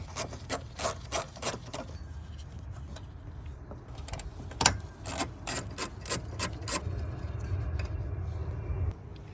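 A ratchet wrench clicks in quick bursts while backing out 10mm bolts near the ECU of a Subaru WRX, close and fairly quiet, with mechanical rubbing and shifting noises between the runs of ratcheting.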